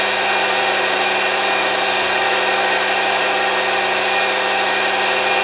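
A 3000 RPM machine runs with a vibrometer held to its shaft, producing a loud, steady, broadband whir with an even hum and no pauses throughout.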